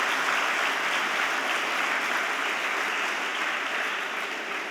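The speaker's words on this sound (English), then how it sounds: "we should clap for our Indian cricket team once here" An audience at a guest speech claps for the Indian cricket team, a steady, fairly full round of applause that carries evenly for nearly five seconds.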